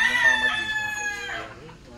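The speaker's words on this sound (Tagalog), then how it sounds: "Binigyan tayo ng isang tandang." A rooster crows close by in one long, loud, drawn-out cock-a-doodle-doo that rises then trails off over about two seconds.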